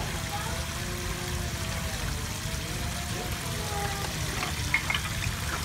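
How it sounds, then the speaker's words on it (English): Water pours and trickles steadily into a toy boat, a gentle continuous splashing with a few brief bubbly accents near the end. "can you fill the boat with water?"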